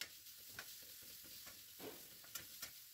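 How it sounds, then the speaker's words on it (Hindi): Chopped garlic sautés in a tablespoon of oil for Singaporean rice, giving a steady, soft sizzle with occasional stirring scrapes, quiet and alone, no voices. "1 टेबल स्पून ऑयल चाहिए हमें और 1/4 कप हमें गार्लिक चाहिए चॉप किया भी। अच्छी तरह से इसको सौते कर लेंगे हम लोग।"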